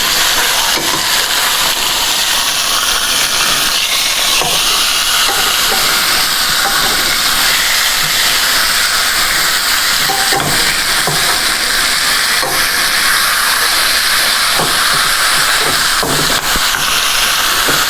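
Veal browns in a pan with a continuous, loud, bright sizzle and crackle, the second side searing steadily with no one speaking.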